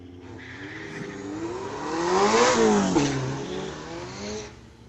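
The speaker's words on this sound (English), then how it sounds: "Cool old Honda Prelude from 1987 racing against a 13 Lexus." A 1987 Honda Prelude and a 2013 Lexus drag racing at a street-legal night drag event at Mission Raceway Park, engines roaring louder as the cars approach, peaking as they pass close by, then fading down the strip.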